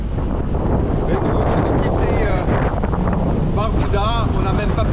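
Strong wind buffets the microphone aboard a sailboat at sea in the Caribbean, a loud continuous roar and rush of air and water filling the whole stretch, with voices talking briefly over it.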